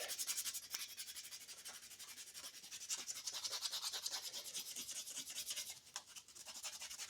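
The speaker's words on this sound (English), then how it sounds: "And then I hand sand everything." Carved magnolia wood being sanded by hand, a soft rhythmic hiss of repeated rubbing strokes, close and faint, steady throughout with no talk.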